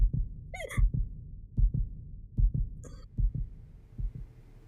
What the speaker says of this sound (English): I felt my heartbeat stabilize.